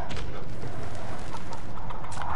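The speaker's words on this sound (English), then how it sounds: "Oh, a chicken." A chicken clucks in a video game, a few short clucks set within a dense, continuous wash of in-game noise.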